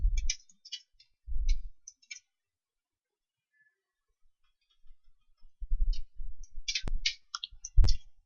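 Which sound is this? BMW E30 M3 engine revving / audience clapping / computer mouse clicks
computer mouse clicks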